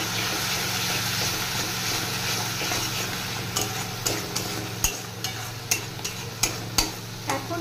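Chopped capsicum tipped into onions frying in a pan, giving a steady close sizzle with a low hum underneath, then a run of sharp stirring and scraping clicks toward the end.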